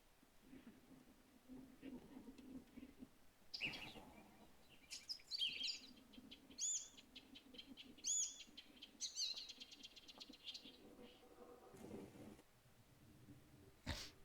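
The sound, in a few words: bird chirping in The Witcher 3 video game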